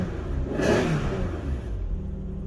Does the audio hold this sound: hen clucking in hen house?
no